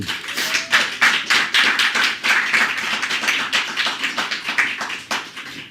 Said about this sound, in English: let's give her one last round of applause